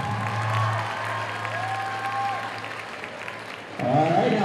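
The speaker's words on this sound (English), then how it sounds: "give these riders a round of applause" A show audience applauds riders in a steady wash of clapping, with some cheering and a faint tonal hum in the background, rising again near the end.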